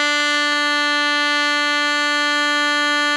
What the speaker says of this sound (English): B is when we press only the top finger down.